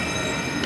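Union Pacific manifest freight train creeping slowly through a junction and around a siding, steady metallic rolling with tonal wheel squeal, close and continuous.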